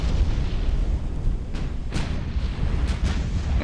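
A shell strikes a warship and destroys its funnel during a naval battle in Ultimate Admiral: Dreadnoughts, heard as a dense, continuous rumble of explosions with several sharper booms bursting through, loud and close.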